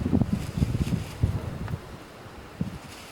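Strong wind gusts buffet an outdoor microphone at a hunting spot in Leakey, Texas, producing low, rumbling bursts for the first two seconds, then easing before a brief gust returns.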